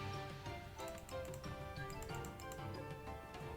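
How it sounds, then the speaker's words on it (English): Quick mouse clicks press a play button on a computer, a scattered series of sharp ticks layered over quiet background music. "you have to excuse the clicking sound, because I'm having to press the next play button"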